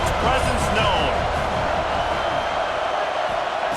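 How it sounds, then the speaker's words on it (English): A large stadium crowd roars steadily from the video game EA Sports College Football 26, a broad continuous wash of cheering and noise with a commentator's voice running over it. "This crowd ready to make its presence known."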